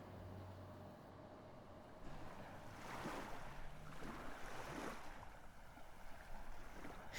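Ocean waves wash and surge in a fantasy audio drama scene, a soft rolling surf with two broader swells building and receding, faint and alone with no voices.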